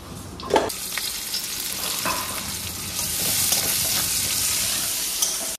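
Chicken curry frying in a pan, with a steady crackling sizzle that builds louder in the second half, along with occasional stirring scrapes and splattery pops near the microphone and no talking.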